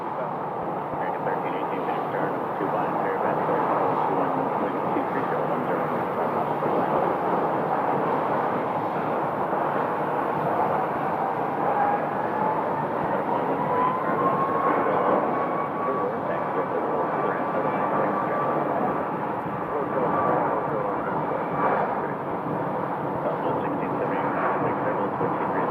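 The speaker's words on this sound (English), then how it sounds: "We are going to be having another UPS departure." A UPS cargo plane departs Phoenix Sky Harbor Airport with a steady roaring jet engine rumble that swells slightly, while a voice talks over it.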